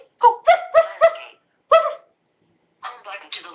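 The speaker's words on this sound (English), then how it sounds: "this is the Awesome Sauce Dog" Several sharp barks from a dog in a quick run of four, then one more after a pause, close and loud, followed by people talking.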